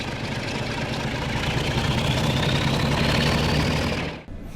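Class 47 diesel locomotive in Train Simulator throttling up to full power from a standstill, a loud sustained engine roar with a steadily rising whine that carries alone for about four seconds before cutting off abruptly.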